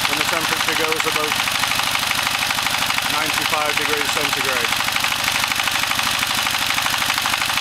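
Lister S1100 diesel engine running on vegetable oil, a steady continuous thrum with a fast regular knock, loud and close, under a voice talking over it.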